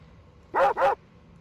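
A dog gives two quick, close barks in succession against a quiet background.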